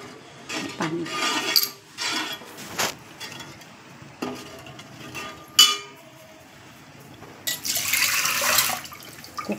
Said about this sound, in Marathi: कुकरचं हे धुवून घेते मी.